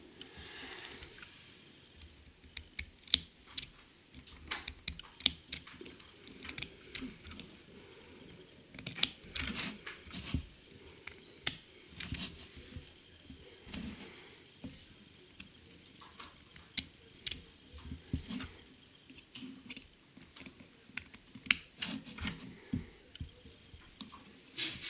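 Scissors snipping the excess cotton wick on a hybrid Orchid and Kayfun 4 e-cigarette atomizer, a run of small close, sharp clicks and ticks scattered irregularly over quiet handling noise.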